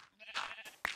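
A sheep bleats in the video game Minecraft, a short faint wavering cry repeated a couple of times in quick succession with no talk over it.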